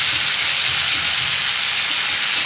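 Curry leaves hit hot oil already holding cumin seeds and garlic while cooking a radish-pod (mulyachi sheng) dish, giving a steady, dense hiss of sizzling that holds evenly throughout with no talk.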